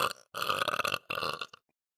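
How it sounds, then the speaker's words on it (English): Deep bubbly burps after drinking Sprite, a short belch followed by two longer rumbling ones, close-miked and loud, ending in silence. "Must have been the Sprite I was drinking. Gets me nice and all bubbly. I'm able to burp on command,"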